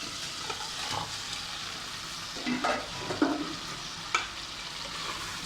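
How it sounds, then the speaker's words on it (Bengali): Pre-fried pangas fish is added to a pan and stirred through masala: a low steady sizzle with several distinct scraping and stirring knocks spaced through the clip, close and moderately quiet. "আগের থেকে পাঙ্গাস মাছ ভাজি করে রেখেছিলাম, সে মাছগুলো দিয়ে দেবো।"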